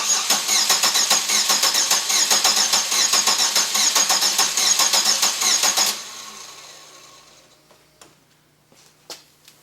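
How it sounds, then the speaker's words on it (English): The engine of a 2000 Chevy Venture cranks with its ignition coil disabled, so it never starts: a fast, even starter chatter runs loudly for about six seconds, then stops, leaving faint clicks and quiet. "The coil has been disabled, so we can just get a crank."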